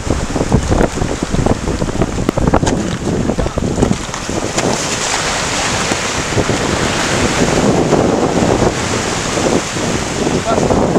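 Ocean waves break and wash near the shore while wind buffets the microphone, a loud, continuous churning surge throughout that swells toward the end.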